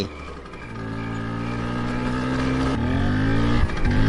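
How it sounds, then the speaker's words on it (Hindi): A car engine drones steadily and grows slightly louder as the vehicle nears, a low, close rumbling hum with rising tones and a short bump near the end. "उधर से कोई गाड़ी आ रहा।"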